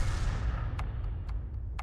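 An artillery round fired by a GW E 100 self-propelled gun in World of Tanks, a deep low boom rolling out with sharp distant cracks trailing after, no talk.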